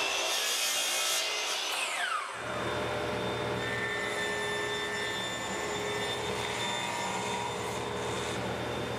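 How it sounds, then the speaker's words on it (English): A saw cuts through a wooden measuring rail for a plywood-breakdown jig: a sharp tool burst, then a steady, loud rasping cut running for several seconds, close and alone. "let's prepare the measuring rail that they're riding on by just cutting it in half and cutting an angle on one end of it"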